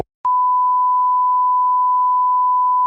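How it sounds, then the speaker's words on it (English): A single steady censor beep, a pure mid-pitched tone that starts abruptly and holds loud and unbroken for nearly three seconds on a radio-style broadcast. "I have to beep that out."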